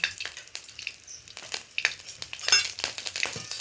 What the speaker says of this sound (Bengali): আদা বাটাটা ভালো করে মিশিয়ে নেড়ে ফোড়নের সাথে